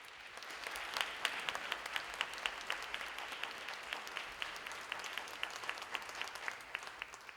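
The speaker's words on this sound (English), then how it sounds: "give me one last round of applause to our panelists" An audience applauding panelists at a university Juneteenth education session, a steady round of clapping from a sizable crowd, moderately distant and sustained throughout.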